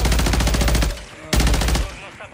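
Loud automatic weapon fire in Warzone 3 on Fortune's Keep, a dense rapid burst, a brief gap, then a second burst that fades out.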